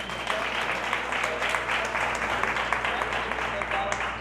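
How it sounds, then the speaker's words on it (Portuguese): Applause from the audience at an evening book interview event, steady dense clapping that carries on at an even level throughout, with no break. "salva de palmas para a Ariane"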